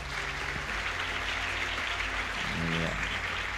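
A classroom of students claps together in a steady wash of applause, with a voice briefly speaking near the end.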